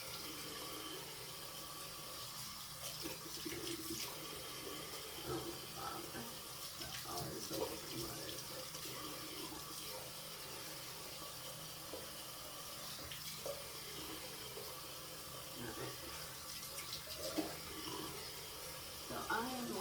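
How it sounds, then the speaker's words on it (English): Tap water runs steadily into a sink during face washing, a faint continuous splashing rush with small splashes, heard alongside intermittent quiet talking. "I wash my face beforehand"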